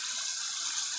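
Water pours steadily into ketchup while cooking, a continuous close splashing and gushing stream with no other sounds.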